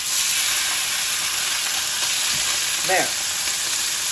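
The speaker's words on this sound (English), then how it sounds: "It's going to make a big sizzle." Steady, loud sizzling and hissing of meat searing in a hot cast iron skillet, with a brief scrape and a single spoken word near the end.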